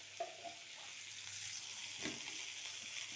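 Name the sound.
cauliflower and lentil dumplings being sautéed in oil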